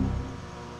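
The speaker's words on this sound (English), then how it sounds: "that noise over there is the AC" Air conditioner running nearby indoors, a steady low hum with a faint throbbing undertone, fairly quiet and continuous with no talk over it.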